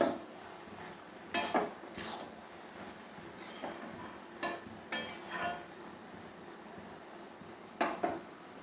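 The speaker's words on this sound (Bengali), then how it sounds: "আমি আবারও ঢাকনা খুলে একটু নাড়াচাড়া দিচ্ছি" A pot lid is lifted and bottle gourd with prawns is stirred, making sharp metallic clacks and scrapes of a spoon against the pot, several spaced knocks over a faint background hiss, with no talking.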